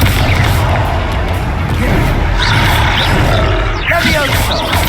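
Confringo fire spell blasting in a Hogwarts Legacy combat scene, a dense roaring boom filling the whole moment with rumbling low end, crackle and brief whooshes layered on top.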